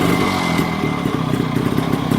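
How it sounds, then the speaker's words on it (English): A 1955 Sun 98cc motorcycle's small single engine runs steadily at close range, a chattering putter with a rapid regular beat and no voices. "Engine sound well enough, doesn't it?"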